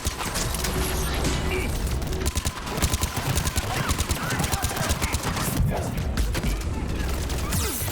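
Dense, rapid gunfire fills a Mass Effect 3 (Legendary Edition) firefight against shielded enemies: a continuous loud barrage of overlapping shots and impacts throughout, with faint voices mixed underneath.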